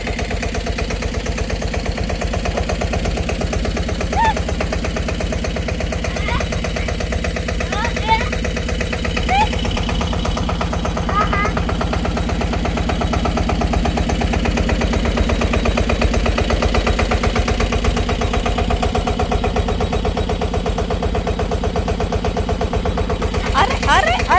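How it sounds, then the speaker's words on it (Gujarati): A diesel tractor engine runs nearby with a steady, throbbing idle that holds at the same level throughout, with faint voices beneath. "અમારા જયભાઈની ટ્રેક્ટર ચાલુ થાય ને ડિસ્કો ઉપડે"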